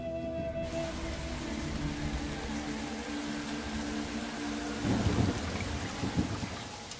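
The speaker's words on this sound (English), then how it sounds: "bringing torrential rain." Torrential tropical monsoon rain pours steadily along a far northern coast, a dense continuous wash with low rumbling thunder swelling briefly near the end.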